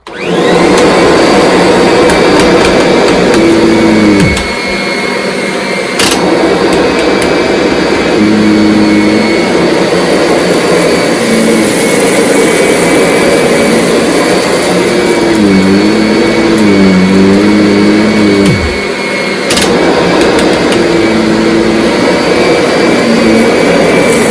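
A 2010 Kirby Sentria G10 upright vacuum cleaner runs loud and steady while picking up salt and rice from the floor, its motor whine shifting in pitch as the head moves, with brief dips where it is pushed and pulled.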